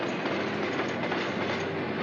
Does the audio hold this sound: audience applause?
no